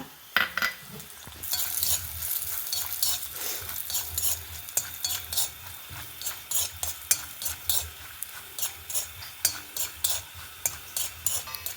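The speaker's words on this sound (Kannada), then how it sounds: "ನೆಲಗಡಲೆ ಒಂಚೂರು ರೋಸ್ಟ್ ಆಗ್ತಾ ಬಂತು. ಈಗ ಗೇರುಬೀಜ ಹಾಕೊಂಬ." Peanuts and cashews roasting in a pan for coconut jaggery laddu, stirred with a utensil, giving repeated close scraping clicks over a soft steady sizzle, with no talk.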